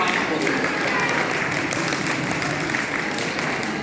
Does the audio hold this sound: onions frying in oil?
no